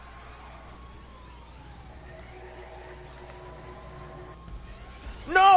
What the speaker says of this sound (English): oh! I just heard a siren bust!